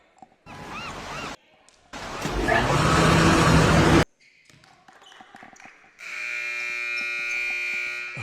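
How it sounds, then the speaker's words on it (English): During a women's professional basketball game, a loud electronic substitution buzzer sounds twice in the arena. The first blast lasts about two seconds and the second is a sustained tonal horn, with crowd noise and voices between them. "Isn't that the sub horn?"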